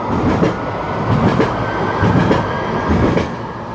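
A tram rolls past close by, its steady rumble and rhythmic clatter of wheels over rail joints filling the scene loudly and continuously with no talking.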